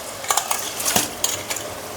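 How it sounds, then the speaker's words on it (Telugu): Dry rice grains poured into a biryani pot, landing in several quick rattling bursts of small hard clicks and patters, close and moderately loud, with no talk. "ఇప్పుడు బియ్యం వేసుకుందాం."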